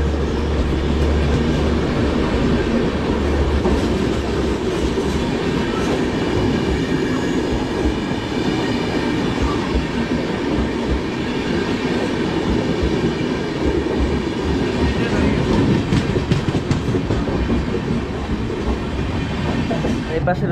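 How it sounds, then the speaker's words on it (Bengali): The Padatik Express rolls past at Sealdah station, a loud, sustained rumble with rhythmic clickety-clack of wheels over rail joints and faint wheel squeal, close by for the whole stretch. "পদাতিক এক্সপ্রেস।"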